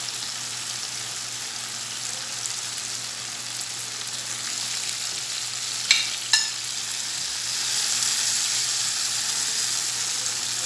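Pre-fried onions go into softened tomatoes in a pan, giving a continuous close sizzle with a couple of sharp utensil clinks partway through.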